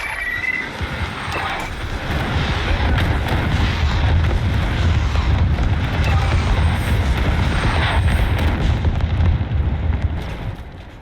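Artillery strike in the mech combat game MechWarrior 4, a continuous loud rumbling barrage of booms and blasts rolling on for the whole stretch, dense and heavy with no clear pauses.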